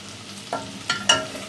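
Butter and onions saute over low heat in a pan, giving a soft, steady sizzle broken by a few short scraping stirs. No one speaks.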